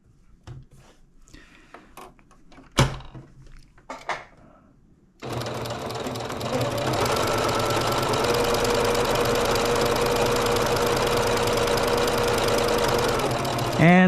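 A sewing machine stitches a quilt binding in one steady, fast, close mechanical whir lasting about nine seconds, preceded by fabric handling and faint talk.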